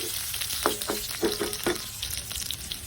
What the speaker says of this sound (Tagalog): Una-una igisa nga pala natin ang ating sibuyas.